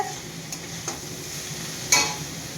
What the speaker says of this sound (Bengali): তো এখানে তোমার আলু পেঁয়াজ করি ভাজা চলছে